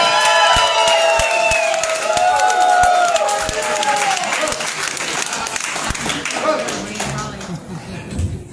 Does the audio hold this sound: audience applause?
yes